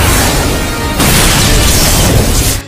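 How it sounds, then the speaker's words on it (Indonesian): A broad, roaring explosion effect from an animated fight, a sustained loud rumbling burst lasting a couple of seconds that swells once before cutting off, with no voices. "Terlihat Nili pun menyadari ledakan Yin Yang akan jauh lebih kuat jika terkena api."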